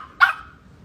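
A small dog gives one short, sharp bark indoors, close and clear against a quiet background.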